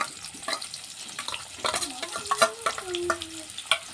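Crushed garlic, onion, cumin and chopped green chili frying in oil with greens, a soft sizzle under scattered scraping and stirring clinks of a spoon against the pot.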